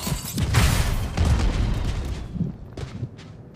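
A grenade explodes in a video game with a deep rumbling boom that rolls on, followed by fainter trailing blasts and crackle.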